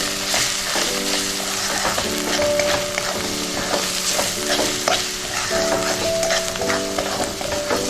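Chole masala with red chilli roasting in a pan, a steady sizzle and fry broken by repeated scraping stirs at a regular pace, close and alone without talk.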